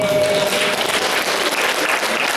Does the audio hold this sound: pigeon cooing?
no